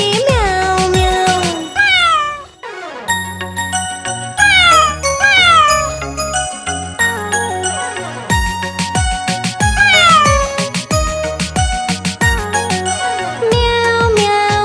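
Cartoon-style cat meows in a Hindi nursery rhyme for children, set against bright tinkling chime music, with repeated rising-and-falling meow tones spread across a steady, loud musical backing.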